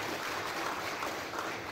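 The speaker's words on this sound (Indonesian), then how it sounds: "Tepuk tangan untuk kita semuanya." Steady, soft wash of audience applause at an agricultural extension outreach gathering held by Indonesia's deputy agriculture minister, even and unbroken throughout with no voices on top.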